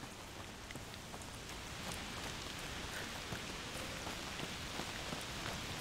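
Steady rain falls in the video game A Plague Tale: Requiem, a dense, even patter of drops on surfaces with scattered sharper taps, continuous and moderately loud throughout.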